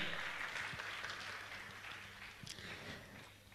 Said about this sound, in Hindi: मैं चाहूंगा जोरदार ताली बजाकर उनका सम्मान करें।